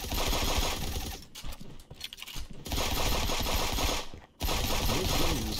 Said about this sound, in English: Okay, I'm bringing out the SMG.